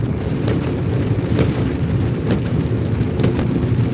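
Steady rain falls through the night, a dense, loud wash with occasional soft thumps of gusts or distant rumble, no voices.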